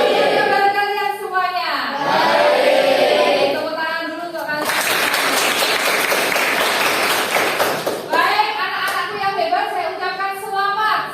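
Children in a ninth-grade classroom clap together in a loud burst of applause lasting a few seconds, set between stretches of an adult voice speaking to the class.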